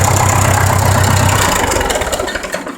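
A 1966 John Deere tractor engine idles with a deep, steady low rumble, close by and alone, then begins to wind down and fade toward the end.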